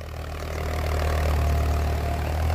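An Indo Farm 3048 tractor engine runs at a steady idle, close and loud, with a deep, even diesel throb and no pauses.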